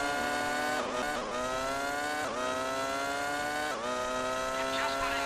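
A Formula One race car engine in the video game Formula One 2002 screams at high revs, a loud continuous whine with brief dips as it shifts gears through a turn.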